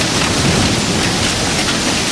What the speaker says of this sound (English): Lots of hail.